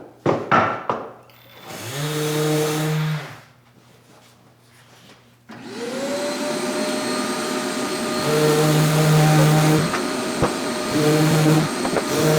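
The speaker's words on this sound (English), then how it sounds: "I must admit, it is a nice sander though." Festool sander working on wood, a close whining motor that spins up, drops away briefly, then runs steadily with a humming, vacuum-like roar and faint knocks.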